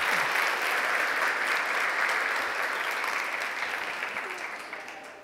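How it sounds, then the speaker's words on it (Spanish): A church congregation applauds steadily throughout, broad sustained clapping that fills the room and slowly tapers toward the end. "Denle un aplauso al Señor por ello."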